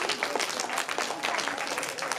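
An audience at a student author panel for Black Children's Book Week claps in a steady, moderately faint round of applause lasting a couple of seconds.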